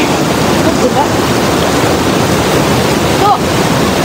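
Steady, loud rushing of the fast-flowing Triveni mountain river in Nepal fills the whole stretch, a constant broadband roar with a faint voice briefly underneath.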